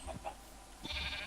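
Sheep bleating in the Minecraft video game, a couple of short bleats early on and another near the end, moderately loud over faint background ambience with no talking.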